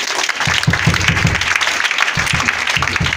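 A church congregation claps and cheers at a worship service, dense steady applause filling the space throughout, loud and continuous.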